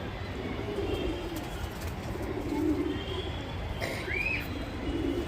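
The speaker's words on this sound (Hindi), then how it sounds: "छोटी चोंच का कबूतर है।" A small-beaked, newly caught pigeon coos softly in a few low, rolling bursts against a quiet background, with one brief higher chirp near the end.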